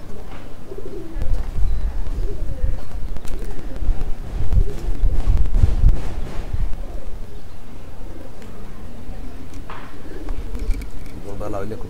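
Pigeons coo in a wooden loft, repeated low throaty calls close by, with wing rustles and knocks, while someone talks over them.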